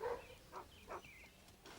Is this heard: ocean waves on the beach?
no